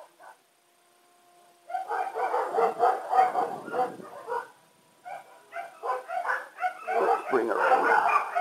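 Dogs bark repeatedly and loudly nearby during a small fixed-wing model airplane flight, in two sustained bursts of barking with yips and whines after a quiet start.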